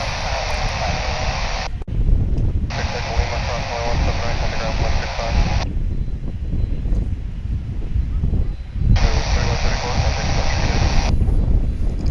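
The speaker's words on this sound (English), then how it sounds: "Little puddle jumper cargo plane." A small cargo plane at DFW airport drones steadily in the distance, a broad engine roar with wind noise, while a voice talks on and off over it.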